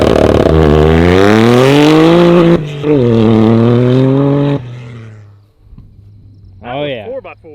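A Toyota GR Corolla in AWD mode accelerates hard, its engine note climbing loud and close through rising revs before a gear change and another pull, then easing off, with brief speech at the end.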